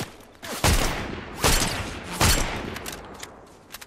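Gunfire in Fortnite comes in three sharp, loud bursts of rapid shots about a second apart, each fading into a short echoing tail.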